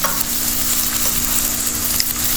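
Finely chopped fresh habanero chilies sauté in a hot wok with a loud, continuous close sizzle and faint stirring scrapes, and no voices are heard.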